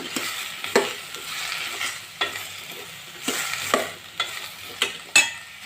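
Cucumber pieces fry in a little oil for Mangalore sambar, a continuous sizzle broken by a series of scraping stirs and clacks of the spatula against the pan, close and with no talk.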